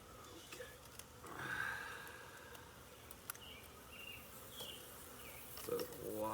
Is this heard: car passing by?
no